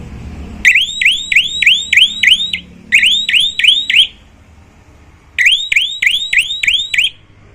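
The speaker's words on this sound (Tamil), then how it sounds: "பிரேக் பிடிச்ச மியூசிக் வரும்" A loud electronic musical horn on a mini e-bike, triggered by braking, beeps out quick chirping, warbling notes in three separate bursts with short pauses between them, close and clear.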